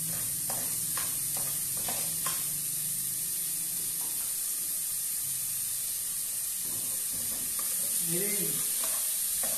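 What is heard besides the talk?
onion and garlic sautéing in a pan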